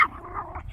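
A puppy growls and gives a short bark at close range, a brief rough snarl with a harsh burst at the start, then lower rumbling over a quiet indoor room.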